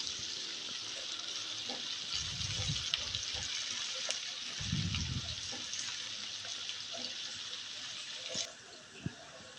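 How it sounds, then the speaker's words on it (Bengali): Chopped onions frying in oil for a dried ribbonfish bhuna, a faint steady sizzle with soft stirring scrapes and a couple of low thumps, quiet and continuous. "পেঁয়াজটাকে এবার তেলের সাথে ভেজে নেব।"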